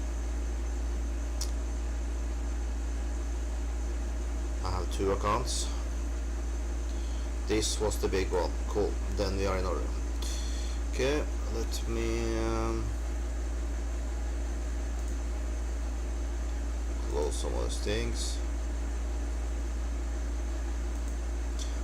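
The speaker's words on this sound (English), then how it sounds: "If you hear a annoying sound in the background, it's the air condition." An air conditioner gives a constant low hum and broadband whir under the whole clip, while someone talks intermittently over it.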